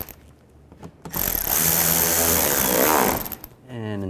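A power tool spins up to drive screws on a radiator cooling fan shield of a Chrysler 200, a loud whirring burst lasting about two seconds, then a short second whirr, close by.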